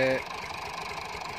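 A Massey Ferguson 240 tractor hauling a trolley loaded with sand idles with a steady, low rhythmic diesel chug, fairly close, after a brief tonal sound at the start.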